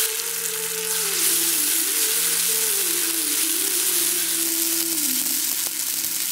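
Ginger-garlic paste sizzles steadily in hot oil with fennel and curry leaves, a dense continuous frying hiss close by with no talk, holding even throughout.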